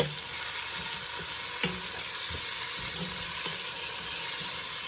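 Garlic cloves sizzle in a hot pan for a stovetop pot roast, a steady close frying hiss with scattered soft stirring knocks as they are pushed around.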